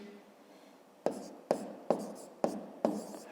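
Pen or pencil writing numbers on paper during a math lesson, heard as five distinct scratchy strokes about half a second apart, close and fairly quiet with no talk.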